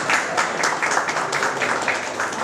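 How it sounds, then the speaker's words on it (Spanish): A crowd of teachers applauds their students at an outdoor school event, giving a steady wash of clapping that stays fairly loud and continuous with no talking over it. "Y que los profesores le den un aplauso a sus alumnos."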